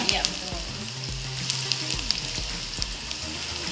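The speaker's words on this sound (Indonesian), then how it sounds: "ini yang kita tumis yaitu bawang bombay ya" Onions sautéing in a pan for sweet and sour fried snapper, a steady close sizzle and crackle with scattered stirring clicks, while a person talks over it.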